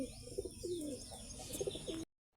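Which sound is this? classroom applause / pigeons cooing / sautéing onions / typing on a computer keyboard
pigeons cooing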